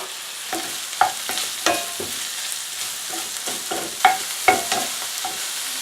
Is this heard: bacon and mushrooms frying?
yes